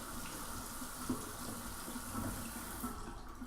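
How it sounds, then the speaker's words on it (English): Running tap water pours steadily over canned kidney beans in a strainer at a sink, a continuous close splashing hiss with slight fluctuations throughout. "Give it a quick rinse."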